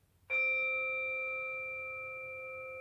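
A mindfulness chime is struck once in a quiet room, giving a bright, clear metallic ring that sustains and slowly fades with a long, pure tone and no other sound.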